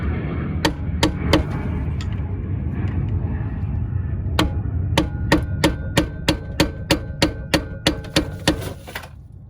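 On a 2001–2005 Honda Civic front knuckle, a hammer drives a flat-head screwdriver into an axle stud to notch it. Sharp metallic taps come singly at first, then in a quick steady run of about a dozen close, loud strikes.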